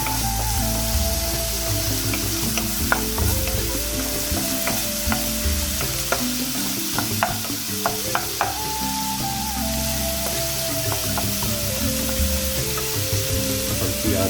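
Chana dal with spinach and chopped tomatoes cooking in a pan, giving a steady close sizzle and frying hiss throughout with scattered scraping stir clicks and faint clinks, no talk.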